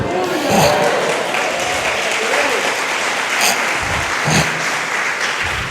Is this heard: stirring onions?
no